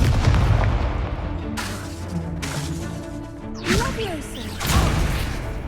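Spell casts from Hogwarts Legacy, a fire spell among them, burst out as loud booming whooshes with crashing impacts over rumbling game ambience. A voice speaks in the background.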